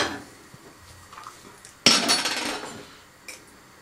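Metal utensil scraping and clinking against a pot of cooked pasta, with a loud burst of stirring clatter in the middle and a few softer clinks, heard alone nearby.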